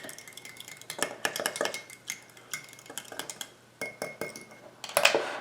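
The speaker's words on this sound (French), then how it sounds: "On met notre sucre dans notre eau, on ajoute la levure, on va la brasser." A spoon stirs sugar and yeast into warm water in a bowl while bread dough is being prepared. It makes light, close clinks and taps in an irregular run, with a brighter clink near the end and no talking.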